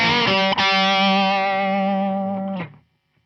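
Sustained electric guitar chord run through a Varitone set to position 2, giving a mid-range boost with the highs cut; a struck chord is quickly re-struck and rings steadily for about two seconds before being choked off.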